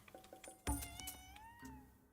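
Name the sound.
cat meowing in the video game Ghostwire: Tokyo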